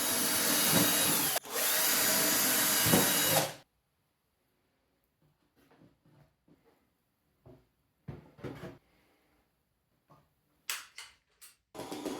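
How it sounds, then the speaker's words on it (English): A loud power drill whirs in two bursts, then stops, followed by quiet scattered clicks and knocks of handling. "now it's time to drill some eye holes"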